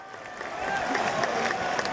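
Tennis crowd at Wimbledon cheering and clapping after a long men's match involving Tsonga, a dense, steady wash of applause and shouts from many spectators, fairly close and continuous with no lull.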